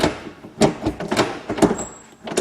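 A Lotus Elise gear shifter squeaking while in fifth, with a few short squeaks and clunks from the shift mechanism standing out above a quiet background.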